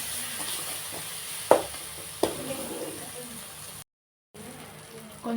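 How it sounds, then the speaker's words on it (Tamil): Onions or aromatics sauté with chili powder in a pan, giving a faint steady sizzle marked by two sharp spoon clacks against the pan, then a brief dropout before the sizzle resumes. "கொஞ்சம் மிளகாய்த்தூள் போட்டுப்போம். நல்லா வதக்கிக்குவோம்."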